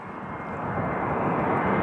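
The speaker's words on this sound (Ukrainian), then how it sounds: "От іде літак на посадку." An airplane comes in to land, its engine roar a steady, broad rumble that swells gradually louder over a couple of seconds.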